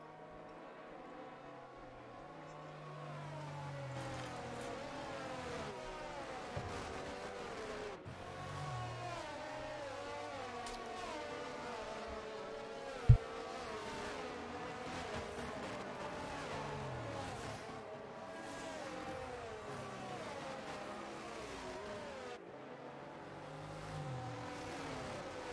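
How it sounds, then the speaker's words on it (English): Race cars and a safety car circling the Austria circuit in an F1 racing game on a drying-to-wet track, a steady droning engine hum with harmonic whine that holds throughout, with one sharp click midway. "safety cars going around one more time"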